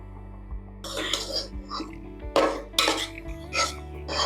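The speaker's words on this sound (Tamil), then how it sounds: "போட்டு நல்லா ஒரு வதக்கிக்கலாம்." A sambar rice mix is sautéed in a pan on a home stove, giving a few close scraping and stirring clatters of a spoon against the pan with short gaps between them.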